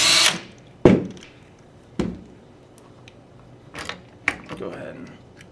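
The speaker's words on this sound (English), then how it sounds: "we're going to go ahead and remove our receiver bolts" Power drill backing out rifle receiver bolts during a trigger install: a loud opening whir, then several short bursts of the drill spaced a second or so apart, with brief clicks and handling noise between, up close.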